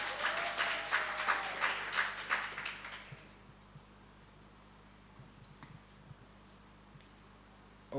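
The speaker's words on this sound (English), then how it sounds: "Can we have one more loud round of applause for our member?" Audience applause at a Uganda Forex Bureau and Money Remittance Association 25th anniversary celebration, a moderate burst of clapping for a member that fades out after about three seconds, leaving a quiet room with faint clicks.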